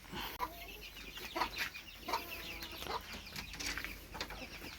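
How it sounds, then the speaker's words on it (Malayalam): A broody native hen clucks softly and repeatedly in short, irregular bursts, close by but faint, with light rustling between the calls. "നമ്മുടെ ചെറിയൊരു നാടൻ കോഴി പുരന്നയായിട്ടിരിക്കുകയാണ്"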